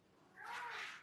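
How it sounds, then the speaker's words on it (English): A house cat meows once, briefly and fairly close, after climbing up onto a box indoors, the call rising out of a quiet room. "That's my cat, Steve, who just decided to go up to a box"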